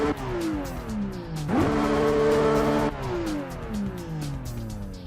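Race car in the Assetto Corsa racing game with the Script sound pack: a loud engine revving up and down through gears, with a sustained squeal of tires midway, no talk.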